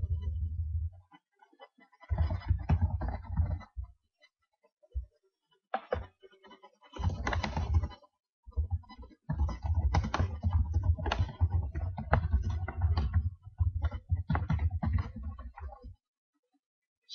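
Keys clatter on a computer keyboard as a map title and description are typed, in close, quick bursts of clicking separated by short pauses, with no talking.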